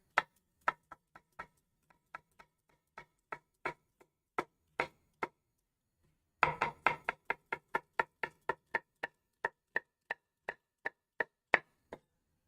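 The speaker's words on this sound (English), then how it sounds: "So, for the onions, yes, I'm going to cut them in Bernoise today." A knife chops onions into fine brunoise on a board, giving sharp, evenly spaced taps close by. A slower run of taps gives way to a faster, steadier rhythm after a brief pause.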